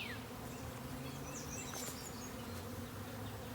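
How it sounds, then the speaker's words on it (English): Honey bees buzz steadily around an opened hive as honey supers are harvested, a soft, continuous drone with a few individual bees passing closer. No one speaks. "I've got some bees upset"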